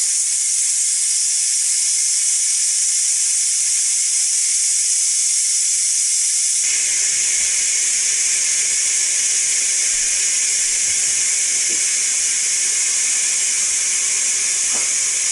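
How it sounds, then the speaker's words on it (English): Steam hissing from a Ninja Foodi pressure release valve while cooking frozen chicken thighs: a loud, continuous high hiss running the whole time, with faint small clicks in the background. "Now to release the pressure off this valve, you just turn it to your right."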